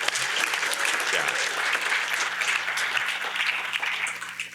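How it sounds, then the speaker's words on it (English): Audience at an art museum's inaugural launch event applauds steadily, dense and loud clapping that fills the room from start to finish. "Now you can applaud."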